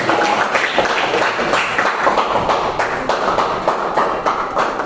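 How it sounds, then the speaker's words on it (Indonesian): Students in a social studies classroom clap together for group 1, a brief burst of steady, mid-distance applause with a few louder taps. "kasih tepuk tangan untuk kelompok 1"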